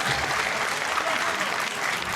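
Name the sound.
audience applause at a wrestling show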